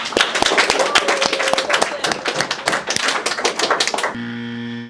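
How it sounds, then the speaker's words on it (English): Brisk, dense applause from a small live audience on a recorded show, a rapid patter of many clapping hands for about four seconds before it cuts to a steady hum. "Now give Colton a round of applause."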